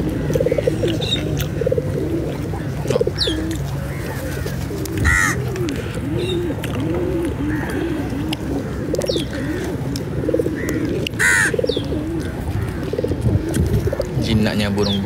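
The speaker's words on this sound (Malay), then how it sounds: "Jinaknya burung-burung ni." Pigeons coo and flutter close around a person near a bread shop, soft repeated cooing in a steady murmur with a few sharp calls, mixed with street background and occasional talk.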